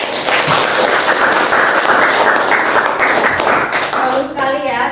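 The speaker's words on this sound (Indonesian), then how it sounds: "Tepuk tangan untuk yang tadi presentasi." Classroom audience clapping for a group presentation at a university lesson, dense steady applause filling nearly five seconds before fading, with a voice speaking at the end.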